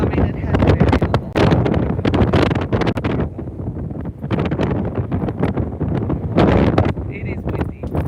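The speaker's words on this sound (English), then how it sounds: "It is windy." Strong gusts buffet the microphone during Cyclone Alfred ahead of landfall, a loud, continuous broadband roar that surges and dips in waves for several seconds, with a voice talking partly beneath it.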